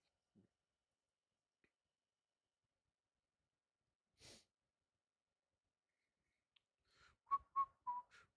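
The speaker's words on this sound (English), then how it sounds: "Who can whistle in here?" A few short, bright whistled notes near the end, preceded by a faint breathy puff in otherwise quiet surroundings.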